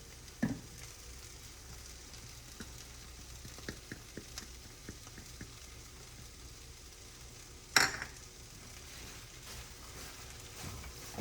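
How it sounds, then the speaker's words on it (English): Buffalo chicken dip heats in a pan, a soft steady sizzle with faint scraping and tapping from a spoon stirring, plus two sharper clacks against the pan. "stir that up so it gets nice and hot"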